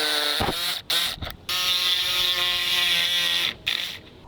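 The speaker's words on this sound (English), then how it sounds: "I'm going to go ahead and try the jigsaw first." A jigsaw cuts into rotted, water-damaged wood with a loud, steady mechanical buzz, stopping briefly for a few short gaps before resuming, with no talking.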